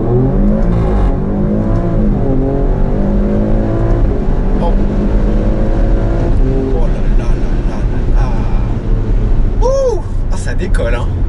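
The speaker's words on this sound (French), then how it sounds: "Alfa Romeo annonce un 0 à 100 km/h en 3 secondes 8." Alfa Romeo Stelvio Quadrifoglio SUV accelerating hard from 0 to 100 km/h, its engine loud and steady throughout and rising through the gears, with a voice talking over it.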